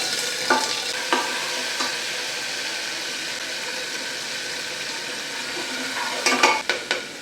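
Garlic and cumin fry in a pan with a steady soft sizzle, broken by a few sharp scrapes of a spoon near the start and a quick cluster of stirring clatters near the end, close and unaccompanied by speech.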